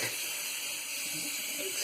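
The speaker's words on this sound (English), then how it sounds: "let me fill the sink really quick" Water runs steadily from a tap into a sink, a soft continuous hiss and splash at moderate distance.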